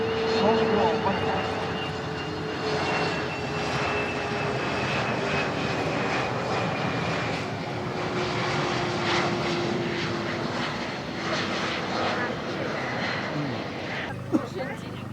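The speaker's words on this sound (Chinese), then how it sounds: "是这个大飞机C919下来了" A COMAC C919 airliner's jet engines roar steadily as it flies past at low altitude during an airshow in Zhuhai, a loud sustained drone with a slowly shifting whine, while a crowd chatters beneath it.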